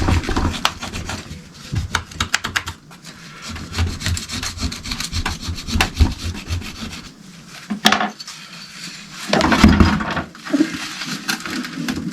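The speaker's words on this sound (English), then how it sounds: "Using a plastic scraper to try and get some of the worst off." A plastic scraper works grime off the engine of a Suzuki A100 motorcycle, making close, uneven rasping scrapes in repeated strokes with short pauses between.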